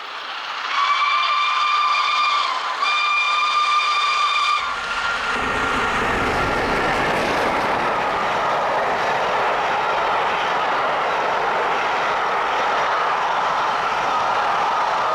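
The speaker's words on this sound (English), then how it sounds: "LNER Class A1 Pacific number 60163 Tornado rushes by" LNER Class A1 Pacific steam locomotive 60163 Tornado, hauling the Torbay Express, gives a few short whistle blasts in the distance, then roars past close by in a loud, sustained rush of exhaust and rolling wheels that fills the rest of the scene.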